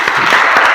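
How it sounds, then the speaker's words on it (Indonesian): A short burst of loud applause from a school class, dense clapping filling the whole moment. "Tepuk tangan dong buat Ariel."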